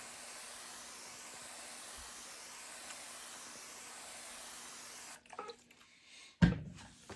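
Water misted from a spray bottle onto freshly planted vegetable seeds in a tray, a soft continuous hiss for about five seconds, then a few quieter handling sounds and a brief knock.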